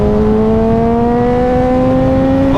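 A high-performance motorcycle engine holds high revs on a road ride between Glasgow and Oban. A loud, steady, humming drone rises gently in pitch as the rider climbs through the rev range, heard close and continuous with no gaps.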